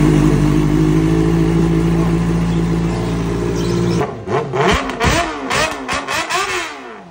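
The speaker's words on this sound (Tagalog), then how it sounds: "Grabe, sobrang lakas, napakaganda ng tunog niya mga boss. Tunog big bike na talaga mga boss." A motorcycle fitted with an aftermarket angel pipe exhaust holds a loud, steady drone, then blips the throttle in a series of sharp revs that rise and fall, close and alone.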